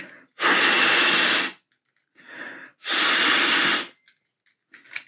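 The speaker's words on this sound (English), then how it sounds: "with a little bit of gentle rubbing or a quick blow of my breath" Two long, loud breaths are blown close up onto the heat-sensitive sticker of a Transformers Beast Wars Transmetal Megatron toy, with a short, softer exhale in between and a faint breath at the end.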